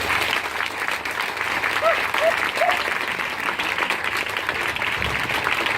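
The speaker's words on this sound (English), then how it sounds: "huge round of applause to Jackie" A crowd at a Race for Life event applauds steadily, continuous clapping at a moderate distance with brief higher-pitched cheers or voices rising through it partway.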